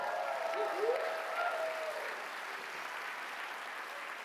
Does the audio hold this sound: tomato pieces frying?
no